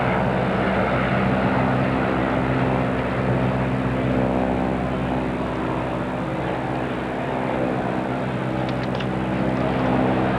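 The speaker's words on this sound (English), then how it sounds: "Whole raft of airplanes flying around with advertisements today." Propeller airplanes towing advertising banners drone overhead above a baseball stadium during a 1987 Toronto at Boston game, a steady loud engine hum with layered harmonic tones that persists throughout, with no talk.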